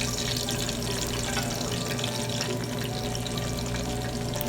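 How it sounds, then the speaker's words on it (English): Three cups of water go into a pot where crushed garlic has been frying for Haitian white rice, giving a continuous, close rushing and sizzling wash with no talking. "Add 3 cups of water to your pot."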